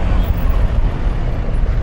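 Jeepney engine running on a city road, a steady loud low rumble that fills the whole stretch with no breaks, traffic noise close by.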